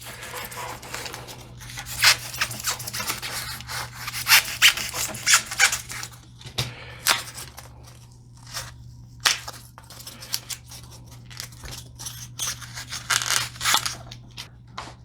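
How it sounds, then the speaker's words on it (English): Material is cut into a cone shape for a tabletop lighthouse model, giving close, irregular bursts of snipping and rubbing with short pauses between cuts and no talk. "So I'm actually going to cut the bottom more narrow than the top"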